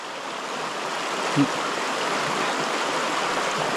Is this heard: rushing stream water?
yes